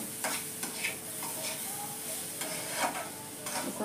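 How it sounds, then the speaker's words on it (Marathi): Sheera with banana and cardamom is stirred and mixed in a pan, with soft repeated scraping strokes over a constant low sizzle. "व सगळं असं मिक्स एकजीव करून घेऊया।"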